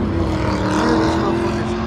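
A Dodge SRT Hellcat revs as it pulls away. Its engine makes a loud, steady, deep roar that holds close and strong for the whole stretch.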